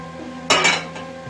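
Food being stirred in a pot with a metal utensil while cooking potatoes, a single short clink and scrape close by over a low background hum.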